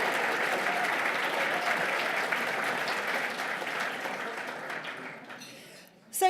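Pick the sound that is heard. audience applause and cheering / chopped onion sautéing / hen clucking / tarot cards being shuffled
audience applause and cheering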